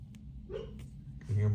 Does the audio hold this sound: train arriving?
no